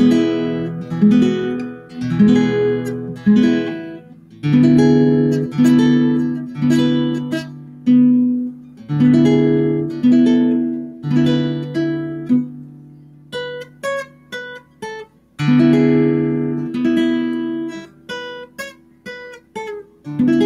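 Solo instrumental guitar plays a tune, plucked chords and melody notes in a steady rhythm with occasional higher single-note runs, close and clear with no voices.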